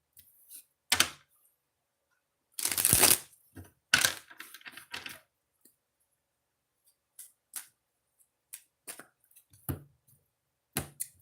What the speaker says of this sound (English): Doing it a different style of shuffling